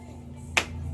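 A single sharp hand clap from an evening exercise class rings out close and crisp against a quiet background, with nothing else happening around it.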